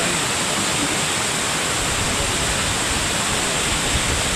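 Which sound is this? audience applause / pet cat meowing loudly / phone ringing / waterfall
waterfall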